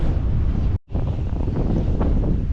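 Strong wind buffeting the microphone during a wind advisory while bank fishing for spring crappie, a loud continuous rumbling roar with one brief dropout near the start.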